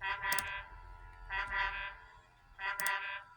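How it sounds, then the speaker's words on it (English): A foghorn sounds through fog in an animated scene, with three evenly spaced, bright, brassy blasts separated by short quiet gaps. "That foghorn is so loud it rattles my dome"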